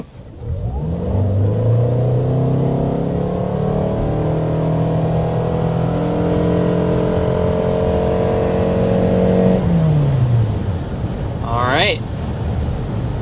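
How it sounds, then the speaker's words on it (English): A 2025 Toyota Sienna hybrid minivan pulls away from a dead stop, a smooth rising drone climbing through the speed range and then easing off, heard from inside over wind and road noise, with someone talking near the end. "There was another acceleration, that time completely from a dead stop."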